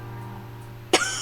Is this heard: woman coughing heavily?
yes